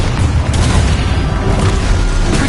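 The Expulso explosion spell in the Hogwarts Legacy video game lands as a loud, sustained booming rumble with dense low-end roar and crackling debris, filling the whole moment without letup.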